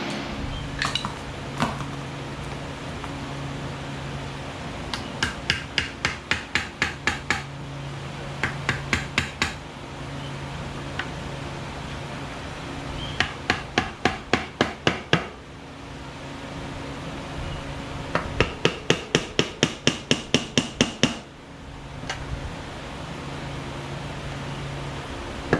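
Metal scraping and prying as a screwdriver works an oil pan loose from its gasket or silicone on a Nissan R34 GTR, with bursts of rapid clicking, rattling strokes in several clusters over a steady background hum.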